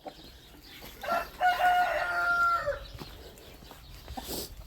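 A rooster crows once, loud and fairly close, a drawn-out call over quiet farmyard background with faint clucking.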